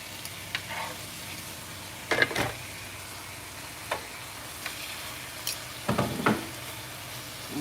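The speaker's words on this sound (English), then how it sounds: "I want this thing to get hot so I can start frying my rice" Rice frying on a hot hibachi griddle at home gives a steady close sizzle, broken by several sharp metallic clinks and scrapes of a spatula working the grains.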